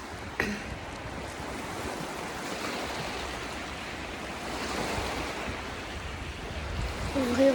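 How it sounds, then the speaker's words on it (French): Steady broadband wash of ocean waves and surf, continuous and fairly loud throughout with a slight swell toward the end, no voices. "Ce bruit de vagues,"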